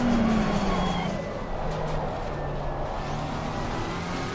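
A race car in a sim racing game at Misano brakes and downshifts, its engine note dropping from a high whine into a lower steady drone with tyre and road rumble, while a voice talks faintly underneath.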